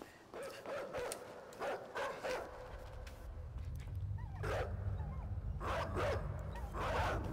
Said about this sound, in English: Now the dog can't get me.